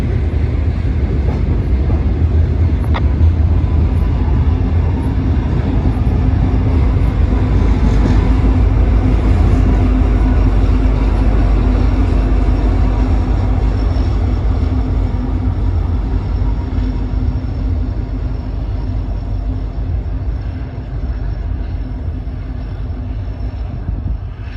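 Freight intermodal train with a DPU locomotive crossing a high trestle over a city in Kenova, a steady, loud, close rumble of rolling cars and engine drone holding continuously throughout, easing slightly toward the end.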